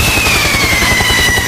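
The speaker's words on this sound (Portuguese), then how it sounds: "Helicóptero, helicóptero." Loud, close helicopter with fast, thudding rotor beats and a thin whine that slowly drops in pitch, heard alone.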